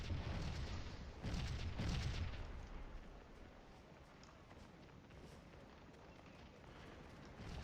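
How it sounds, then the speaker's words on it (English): Cannon fire in the Gettysburg battle video game Scourge of War: a few muffled booms early on, then a fainter rumbling din of distant battle that carries on quietly. "these cannons are going to keep pot-shotting at them"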